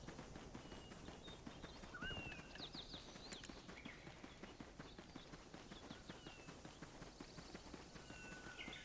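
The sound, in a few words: horse hooves in the video game Black Desert Online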